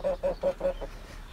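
Chickens and a rooster in a backyard coop of five hens and one rooster, giving four short, fairly loud clucks or honk-like calls in an even rhythm, then trailing off into quiet.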